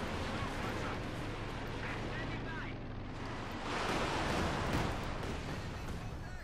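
Panther tank shelling and battlefield barrage in Company of Heroes 2, dense rumbling blasts and booming impacts rolling continuously, swelling louder toward the end of the skirmish.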